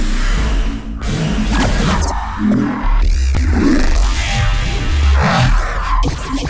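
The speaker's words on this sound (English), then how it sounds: "And then finally, I've got a neuro bass that sounds like this." Neuro bass synth patch in Bitwig for IDM hyperglitch music: a loud, growling, heavily modulated bass with throbbing low end and swooshing, shifting upper textures, playing continuously and alone.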